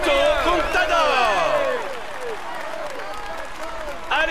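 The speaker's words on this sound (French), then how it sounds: "Allez, on l'applaudit bien fort." A roadside crowd at the 2015 Tour de France podium ceremony applauds Alberto Contador, a loud, steady wash of clapping that thins toward the end while an amplified announcer's voice rings over it.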